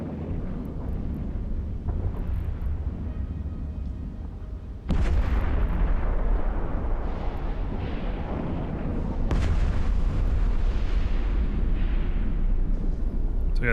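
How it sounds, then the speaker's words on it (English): Continuous booming barrage of missile fire and explosions in the space game EVE Online, a dense rumbling wall of sound with sudden louder bursts, strongest near the middle and end. "The missiles don't miss."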